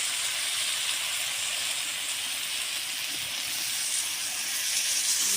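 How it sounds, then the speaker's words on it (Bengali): Chicken keema cooking in a pan as water goes in, giving a steady, fairly loud steaming hiss that holds evenly throughout, with no voices. "এবার আমি জল দিয়ে দেবো"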